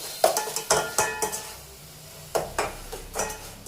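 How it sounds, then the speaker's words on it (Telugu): Ginger garlic paste fries in a pan under repeated spoon strokes, a series of scraping, clinking stirs in two bursts over a quiet sizzle, with no one speaking. "1 స్పూన్ అల్లం వెల్లుల్లి పేస్ట్ వేసుకొని పచ్చి వాసన పోయిందాక వేయించుకోవాలి."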